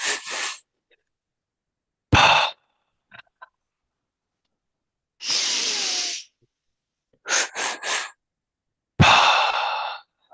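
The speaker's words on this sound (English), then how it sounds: "So you're going to breathe in, then you're going to take a couple of sips." Breathwork sip breathing demonstrated up close: breathy inhalations broken into short sips, with several separate breath bursts and quick clustered sips spaced by silence.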